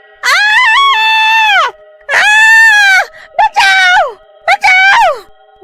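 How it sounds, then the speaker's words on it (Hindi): A witch screaming in pain in a horror story, burned by splashed hot oil: long, loud, wavering shrieks in several bursts, the last ones shorter and choppier, with no talking. "चुड़ैल चिल्लाने लगती है"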